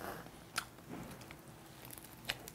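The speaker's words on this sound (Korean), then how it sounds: "바삭합니다." Crisp crunchy bites into pizza bread, two sharp crunches spaced apart with faint chewing between, close and quiet.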